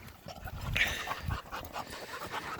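A dog pants close by in a quick, steady rhythm of soft breathy huffs, fairly faint, with a small whine partway through.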